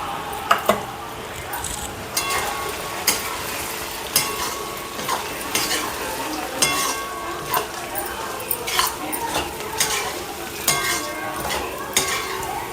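Crushed roasted peanuts stirred into hot oil in a pan, with repeated scraping clinks of a spoon against metal and a light sizzle underneath, while someone talks over most of it.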